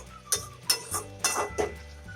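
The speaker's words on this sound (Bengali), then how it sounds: "আমি এবার ঢাকনাটা খুলে দিলাম" A metal lid comes off a cooking pot of pumpkin greens and vegetables, making a handful of quick, close metallic clinks and clatters in an otherwise quiet kitchen.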